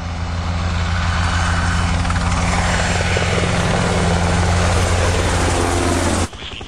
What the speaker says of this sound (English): one of the most successful military helicopters ever made, the Blackhawk